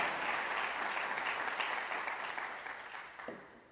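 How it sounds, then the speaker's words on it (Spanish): A church congregation applauds together in a dense, sustained burst of clapping that slowly fades toward the end. "Vamos a dar una ofrenda de palmas."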